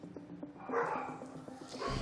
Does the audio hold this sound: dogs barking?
yes